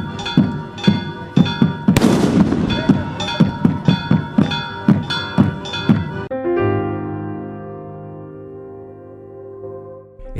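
Festival cohetes (skyrockets) bang in a quick rhythmic series of sharp, loud reports mixed with pounding bombo drums at a rural celebration in Santiago del Estero, Argentina, followed by a lingering ringing resonance as the blasts stop.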